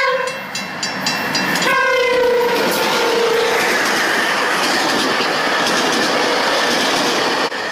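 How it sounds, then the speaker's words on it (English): Old GO Transit train horn blaring a few loud, slightly sour multi-tone blasts, then a passing train's steady rumble and rail clatter taking over, close and loud. "back then when Go Transit had terrible horns, they sound like this."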